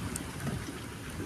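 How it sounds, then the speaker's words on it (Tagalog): Heavy rain pours steadily during a storm in Ishikawa, Japan, a continuous dense wash of close patter with no talk. "Grabe yung ulan. Lakas ng ulan."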